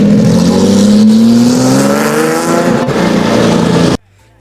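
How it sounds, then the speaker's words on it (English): A 1966 Lamborghini Miura with a 4-liter V12 mid-engine revs loudly and close by, its pitch climbing in a rising scream through the gears before the sound drops away sharply near the end. "4-liter V12 mid-engine, 345 horsepower in 1966. That car was absolutely screaming."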